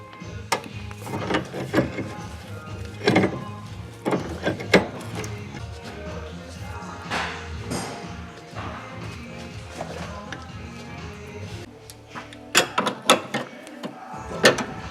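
A pipe wrench working the rusty inner tie rod ends off a Miata steering rack, giving repeated metallic clanks, knocks and ratcheting thuds at irregular intervals, loud and close, with louder clustered hits near the end.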